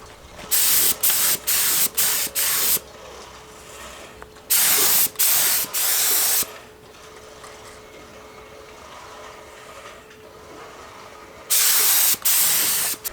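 A paint spray gun spraying cleaner fires in short, loud hissing bursts: a quick series of several, a pause, another cluster, then a final longer blast.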